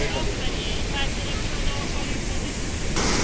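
Rushing water of a waterfall in Switzerland, a dense steady roar that fills the whole clip, loud and continuous with no breaks.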